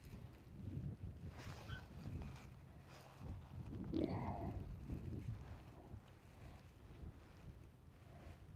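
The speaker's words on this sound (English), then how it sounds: "this stupid wind" Gusty wind buffets the microphone outdoors while fishing for trout and catfish, a steady low rumble swelling and easing throughout, faint and without speech.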